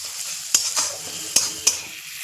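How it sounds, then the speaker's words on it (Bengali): Chopped onions sizzle in a hot frying pan while a spoon stirs them, with a few sharp scraping clicks against the pan over the steady crackle. "এবার পেঁয়াজ কুচিটাকে আমি ভালো করে ভেজে নেব।"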